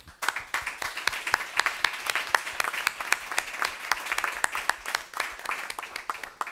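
An audience claps for the evening's three speakers at an LGBTIQ+ History Month opening night, with dense, steady applause that carries through to the end.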